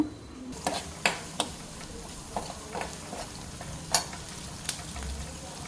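Dried red chillies frying for a tempering over a low flame, a soft steady sizzle broken by scattered sharp pops and crackles, close and quiet.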